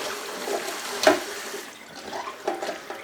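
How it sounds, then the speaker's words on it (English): Tap water runs over fresh cauliflower as it is rinsed in a kitchen sink, a soft steady splash with a sharper burst of water near the start and gentler surges later. The sound is close and nobody speaks. "I'm just going to give these a wash. I'll rinse, give them a rinse."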